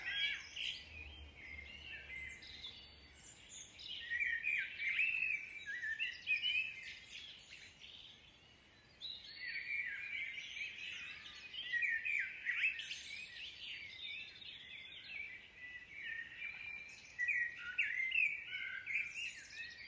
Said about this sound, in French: Ces chants d'oiseaux qui nous rappellent la simplicité